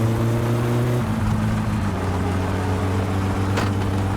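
A car engine in the My Summer Car video game winding out first gear, a steady loud droning hum whose pitch shifts as the revs change, close and with no talk.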